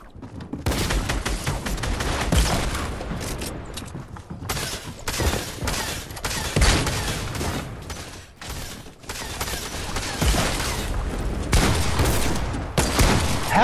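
Shotgun fire in an online shooter game, a rapid series of loud, sharp blasts in bursts with short gaps between them, close and dominant, with explosions and clatter mixed in.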